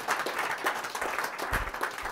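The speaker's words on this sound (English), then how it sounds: "Everyone, a round of applause for CJ." Audience applause welcomes a volunteer named CJ onto the stage at a live show, a steady patter of clapping from a crowd lasting about two seconds at even strength.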